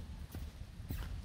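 Horse hooves clip-clop at a slow walk, two distinct hoof strikes standing out over a low rumbling background, fairly close and moderately loud.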